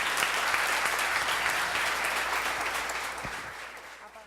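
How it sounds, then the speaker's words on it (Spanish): Audience applause at a tech conference after a talk ends, a thick burst of clapping that starts full and gradually thins and fades toward the close. "Un aplauso."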